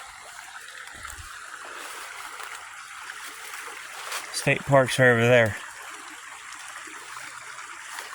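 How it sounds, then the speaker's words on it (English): Steady trickling creek water runs throughout beside old iron furnace remains, with a brief burst of nearby speech partway through. "And right here's the creek."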